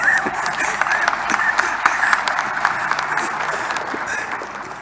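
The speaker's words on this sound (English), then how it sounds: "I thought that deserves an applause." Audience applauding at an election results announcement, a continuous patter of many hands clapping with sharper individual claps, fairly loud and gradually tapering off.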